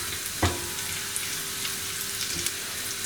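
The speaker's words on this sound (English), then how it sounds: "I'm going to mix them, saute them a little, just for about a few seconds." Garlic sautes in a hot pan as the start of a broccoli and carrot soup, a soft steady sizzle with one brief louder clatter near the start.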